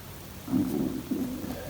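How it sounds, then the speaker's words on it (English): A person's stomach growls quietly in two low, drawn-out rumbles, one after the other, with no talking over them. "Sorry if you hear my stomach growling."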